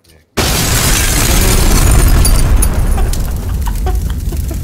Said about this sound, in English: That's gonna blow us up.